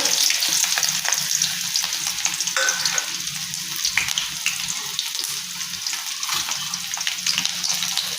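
Chopped onion fries in oil with panch phoron, poppy seeds and green chilli paste, a steady close sizzle with crackling spits running the whole time, no voices.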